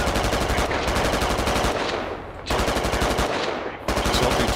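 Sustained automatic gunfire in the military shooter Squad, a loud, steady rapid-fire rattle running continuously with two brief dips, close and dense with no voices.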